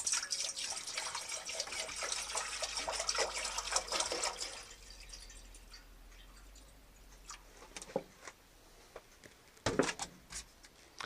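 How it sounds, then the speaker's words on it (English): Water pours steadily into a pot for a few seconds, about three cups for pho soup, then tapers off into quieter clinks and small knocks. "So, first step is 3 cups of water."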